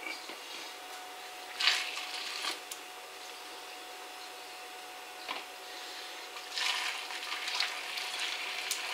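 Boiling water from a saucepan being poured into thermos flasks, faint bursts of gurgling pouring and splashing at a few moments over a quiet background with a steady faint tone, louder toward the end.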